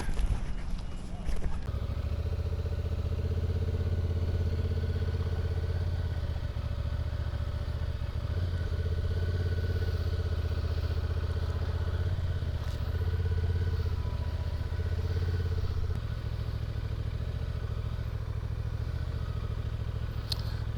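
Motorcycle engine running steadily with a deep, constant droning hum and low rumble, close and continuous for the whole stretch, with slight clatter and no clear speech.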